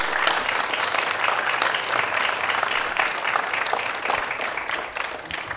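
An audience at a county commissioners meeting applauds, producing a thick, sustained wash of clapping that stays loud and steady, easing only slightly near the end.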